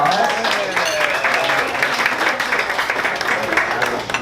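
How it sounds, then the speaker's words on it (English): Audience applause at a community event about Española Way in Miami Beach's Art Deco District, a dense, even round of clapping that holds for several seconds, with some murmured voices underneath. "Let's give them a round of applause."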